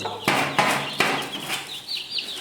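Close hen clucking with a few sharp bursts at the start, then quieter chirpy calls, probably from small Serama and Silkie chickens, with no voices present.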